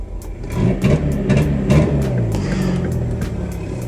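A VW MK4 Jetta with the 2.0 engine revs toward 2,000 RPM in several close, loud surges that rise and fall before settling into a steady drone.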